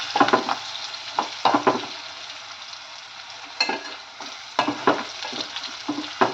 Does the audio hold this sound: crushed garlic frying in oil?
yes